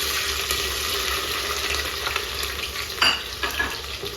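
Onion fries in hot oil in a pan for palak gosht, a steady close sizzle with a sharper crackle and hiss burst near the end, no talking.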